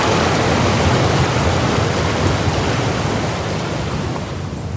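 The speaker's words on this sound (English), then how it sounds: "But then a typhoon hit the island." Typhoon storm effect in an audio drama, a loud, continuous roar of wind-driven rain and surging noise that fills the whole stretch and eases only slightly toward the end.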